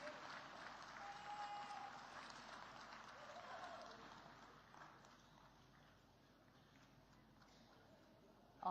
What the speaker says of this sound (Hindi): जोरदार तालियां सभी अवॉर्डीज के लिए,